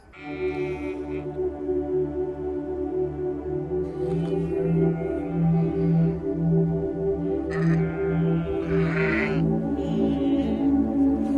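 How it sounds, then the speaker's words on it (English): Sheep bleat repeatedly over a steady, droning background at a milecastle on Hadrian's Wall, several animals calling at once from close by, with overlapping cries throughout. "if you can hear me over the sheep"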